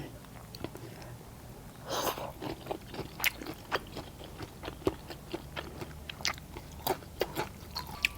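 Someone eating beef noodle soup with ribeye beef, boat-noodle style, with close, faint crunchy bites and wet chewing sounds in an irregular rhythm, some louder smacks, and quiet background hum.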